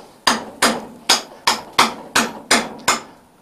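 Eight evenly spaced, loud ringing hammer blows strike a hot butt-welded steel ring at the forge during welding, each sharp impact decaying quickly before the next.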